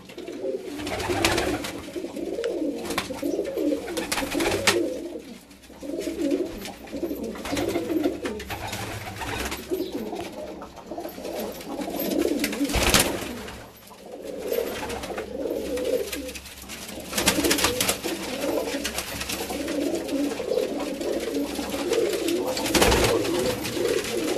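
Several pigeons in Multan coo softly and repeatedly at evening, their low burbling calls overlapping, with occasional wing flaps and scuffling nearby.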